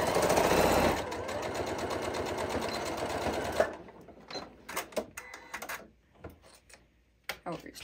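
A sewing machine stitches fabric for a reversible, microwave-safe bowl cozy, running steadily for nearly four seconds before stopping, followed by scattered handling clicks and light rustles.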